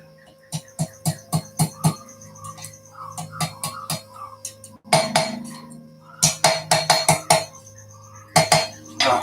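Hammer blows ring on hot metal at a blacksmith's forge, fast rhythmic bursts of sharp clanging strikes near and loud, separated by short pauses.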